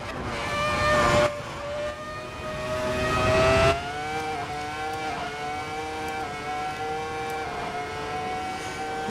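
Sabine Schmitz's Ring Taxi revving hard around the Nordschleife, a loud sustained engine drone with steady harmonics that climbs in pitch, bursts louder twice, then holds near the rev limit.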